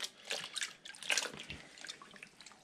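Water splashes and trickles faintly in a basin as the soaking water for sausage casings is changed, with soft irregular drips and pouring.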